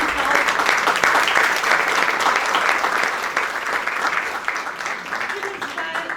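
Audience at a Portuguese book launch applauds a musician, a dense, steady wash of clapping that swells at first and then slowly thins out, with a few voices audible underneath.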